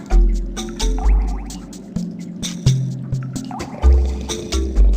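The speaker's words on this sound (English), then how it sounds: "A stalactite forms when water drips from the roof of a cave, leaving tiny bits of mineral behind." Water dripping from a stalactite onto the floor of a cave, close and clear, with irregular plinks and plops that ring with a hollow, resonant echo against the quiet.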